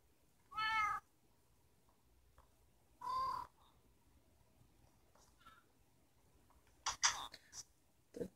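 Glitched cats in Minecraft give short meows, two spaced clear calls followed by a cluster of quicker overlapping cries near the end, over a quiet background.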